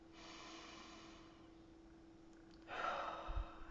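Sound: deep breath in

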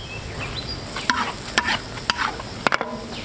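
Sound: stir-frying scallion leaves in a wok

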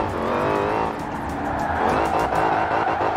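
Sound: Dodge Charger R/T muscle car driving, video game Forza Horizon 4

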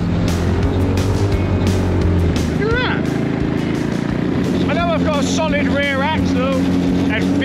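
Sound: mini jeep with 8 horsepower engine driving through snow

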